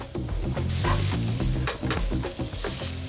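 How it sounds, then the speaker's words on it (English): Chopped peppers hit a hot pan of garlic and onion for a risotto-style orzo with shrimp, giving a steady, close, fairly loud sizzle that runs through the whole moment with no talking. "we're gonna add the peppers to the garlic and the onion"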